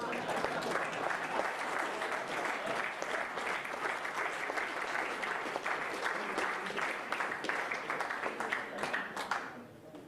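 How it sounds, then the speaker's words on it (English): Sustained applause from the audience at a men's final, honouring the runner-up, Phil Harrison; dense, steady clapping at full strength for about nine seconds, then quickly thinning out at the end. "Big round of applause, ladies and gentlemen, for the runner-up, Phil Harrison."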